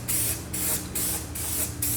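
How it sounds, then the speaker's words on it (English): Gloss black spray paint hisses from a can in four short bursts, each about a third of a second with brief pauses between, close and loud. "spray paint's going to dry a lot faster. So spray paint it."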